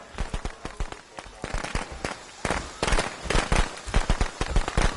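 Rapid firecracker pops in a video game burst in dense, irregular clusters throughout, loud and close, mixed with gunfire-like cracks while a player talks over them.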